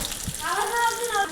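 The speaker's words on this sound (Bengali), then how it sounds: "এখানে ইলিশ মাছ ভাজা হচ্ছে।" Hilsa fish fry in hot oil, giving a soft, steady sizzling hiss with someone talking over it.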